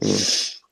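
A person gives a short nasal snort of laughter at a joke, close and fairly loud, trailing off quickly with a faint breathy sound just after.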